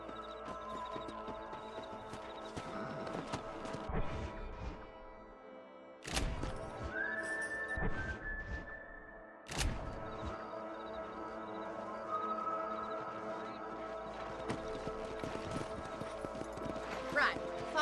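Horse whinnies and hooves clip-clop in Red Dead Redemption, with the animal's calls standing out over continuous game music, ambient sound and talking voices, broken by a couple of sharp loud hits.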